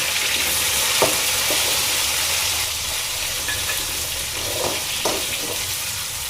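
Onions and tomatoes fry in a pan for an egg curry, giving a steady loud sizzle with a few sharp scrapes of stirring scattered throughout, with no voices.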